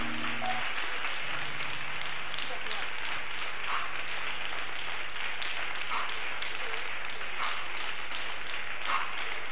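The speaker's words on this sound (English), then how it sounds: "Clap your hands and pray." A church congregation clapping hands during prayer, steady dense clapping under a voice speaking throughout.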